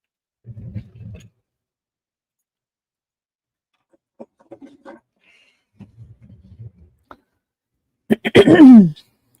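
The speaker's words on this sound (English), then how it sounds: "Sorry for coughing in your ear." Someone clears their throat and gives small coughs near the microphone during a live jewelry sale, soft low bursts early and midway, ending in a louder, longer rasping cough.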